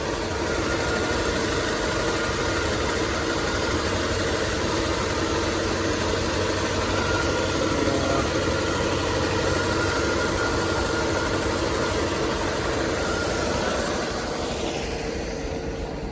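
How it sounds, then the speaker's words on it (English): A 1964 Chevrolet C20 pickup truck engine idles steadily and loudly up close, still not warmed up, a continuous low rumble with a faint high whine, fading slightly near the end. "I don't think the engine's warmed up yet."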